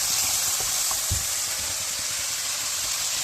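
Dried chili and spice paste sautés with a splash of water in a pan for a koi fish curry, giving a steady, close hiss of sizzling with a few soft stirring knocks underneath.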